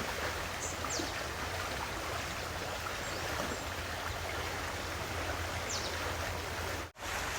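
River water flows steadily past green surroundings, a continuous soft rushing and babbling at moderate distance with a few faint chirps above it.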